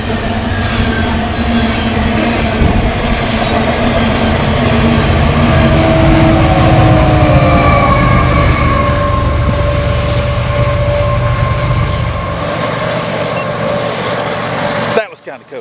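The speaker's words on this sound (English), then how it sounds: "some of these trains are really, really, really, really long" A long freight train passes close by with a steady, loud rumble and clatter of wagons that continues for most of the time, then drops away abruptly near the end.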